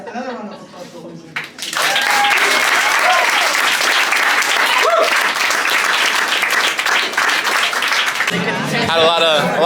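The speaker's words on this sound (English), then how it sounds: "another one of applause for Lindsay" An audience at a comedy show bursts into loud, sustained applause and cheering for a comedian, rising after a short spoken lead-in and continuing strongly, with voices talking over the clapping near the end.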